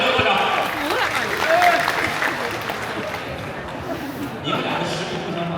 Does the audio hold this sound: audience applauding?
yes